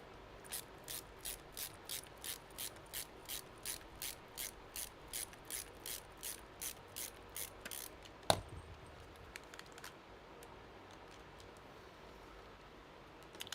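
Screws threading into a PC case, a fast run of evenly spaced ratcheting clicks from a driver, then one sharp knock and a few scattered faint clicks, close and quiet with no talking.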